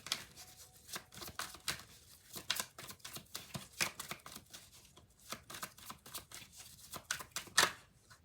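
Tarot cards being shuffled and dealt by hand, a quick irregular run of soft riffling flicks and snaps, close and fairly quiet, with no talking.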